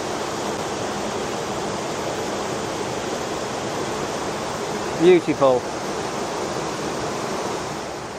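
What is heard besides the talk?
waterfall cascading water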